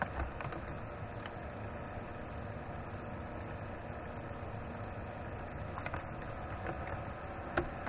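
Urdu text is typed on a computer keyboard with a fast, irregular run of light key clicks, faint against a low background hum.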